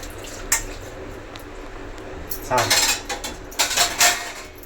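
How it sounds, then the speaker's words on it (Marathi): Dishes and cutlery being scrubbed and washed at home, giving a few clattering, clinking bursts of metal utensils in the second half over a quiet room background. "सारी भांडी घासून."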